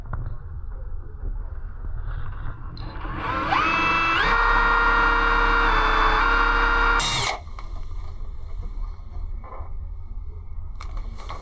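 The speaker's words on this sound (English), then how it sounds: "what I've got here is a drill bit that should go right through the screw" A power drill whines steadily at high pitch for several seconds, drilling through a screw on a plumbing fixture handle, then stops abruptly, leaving low background rumble.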